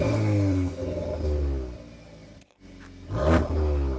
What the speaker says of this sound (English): now let's do a couple revs in Nürburgring mode